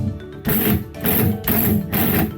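An impact wrench tightens bolts on the lift of a 2022 Polaris Ranger in four loud, close bursts of roughly half a second each, separated by brief pauses.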